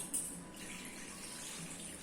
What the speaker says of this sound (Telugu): వాటర్ పోసి వెన్నని బాగా కడగాలి